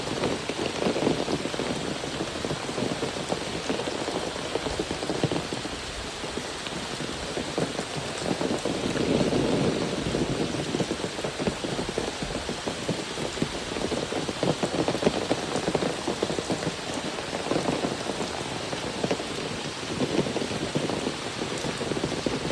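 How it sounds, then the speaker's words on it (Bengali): Heavy rain pours steadily for a long stretch at a fish farm, a dense continuous patter on surfaces with no talking. "প্রচুর বৃষ্টি হয়"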